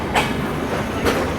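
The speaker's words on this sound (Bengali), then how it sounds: "এখন আমাদের ট্রেন ঢুকতেছে বাংলাদেশের দ্বিতীয় ব্যস্ততম রেলওয়ে স্টেশন বিমানবন্দর রেলওয়ে স্টেশনে" Ekota Express train running into Airport railway station, heard from inside a compartment as a steady rumbling roll with two brief clacking wheel hits over rail joints.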